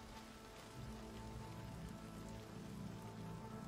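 Faint, steady rain falls onto a surface, a continuous soft hiss of drops with a low rumble beneath and no voices.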